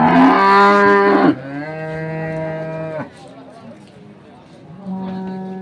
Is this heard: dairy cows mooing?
yes